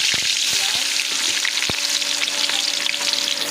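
Ingredients dropped into hot oil for ridge gourd curry set off a loud, continuous sizzle, with a few close knocks from the spoon near the start.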